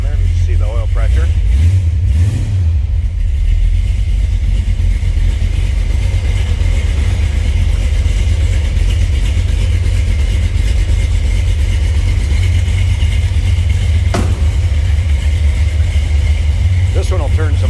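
A 1962 Ford Fairlane two-door post engine runs after a cold start with a deep, steady idle close by, a brief rev early on, and a person talking over it.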